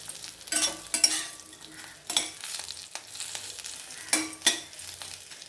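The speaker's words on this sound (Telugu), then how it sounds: "అరటికాయని మొత్తాన్ని దీంట్లో వేసేద్దాము వేసి మొత్తం ఇట్లా అంతా దీనికి కలిసేటట్టుగా మిక్స్ చేసుకున్నాం" Raw banana pieces are stirred in a hot cooking pan: a spoon scrapes in repeated strokes over a soft frying sizzle, close by and uneven in rhythm, with no speech.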